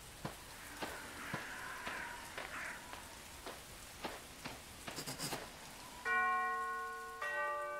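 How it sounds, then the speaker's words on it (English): A doorbell at a mansion in the video game Arkham Horror rings twice near the end, each a bright sustained chime with a ringing decay, after several soft tapping knocks and patters; no one speaks. "I'd better ring the bell."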